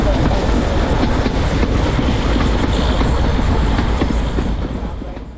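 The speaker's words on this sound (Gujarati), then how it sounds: "પૂરું નદીની ઉપર થઈને ટ્રેન પસાર થતી તમને જોવા મળવાની છે" A 110-year-old heritage train on the Bilimora to Waghai line rumbles past loud and close, with a dense steady roar and rhythmic clickety-clack of wheels that fades slightly at the end.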